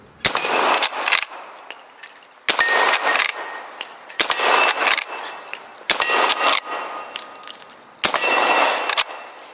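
An 1860 Henry lever-action rifle fires outdoors at a steel plate target: five sharp shots, each followed by a bright metallic ring that hangs briefly, spaced about two seconds apart.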